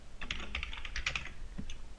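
Quick, light keystrokes rattle on a computer keyboard while HTML code is typed, an irregular, fairly close clatter of taps with no talking.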